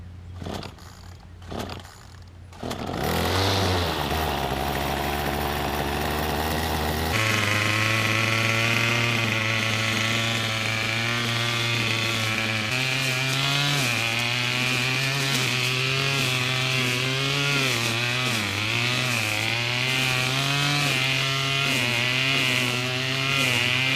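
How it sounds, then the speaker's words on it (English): A gas-powered weed eater trims overgrown weeds on a homestead property after a few quiet knocks at the start. Its engine revs up and runs loud and close, wavering in pitch as the string cuts through the growth. "I'm gonna have to break out my gas-powered weed eater, see if we can hack this stuff back"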